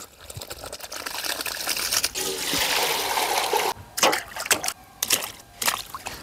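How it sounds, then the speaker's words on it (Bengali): Large chicken pieces are washed by hand in water for chicken biryani, with close splashing, sloshing and trickling that breaks into short bursts of splatter and brief pauses toward the end. "বিগ সাইজের চিকেনের পিসগুলো ভালো করে ধুয়ে পরিষ্কার করে নেব"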